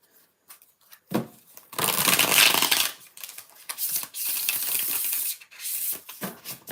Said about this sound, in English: Ooh, they're good shuffles.